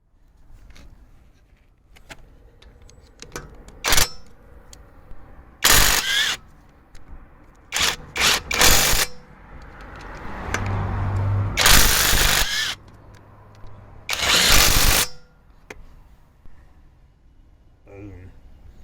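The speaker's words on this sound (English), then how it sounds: "this super cheap impact driver, as you saw from earlier in the video, done a fantastic job taking the wheel nuts off" Cheap 18V brushless impact driver taking the wheel nuts off a Mercedes Vito van: several loud, sharp bursts of rapid hammering, each a second or two long with pauses between, the longest run near the middle, close to the microphone.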